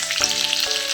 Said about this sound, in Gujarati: આપણું તેલ આવી ગયું છે. થોડુંક આપણે જીરું નાખશું સ્વાદ અનુસાર.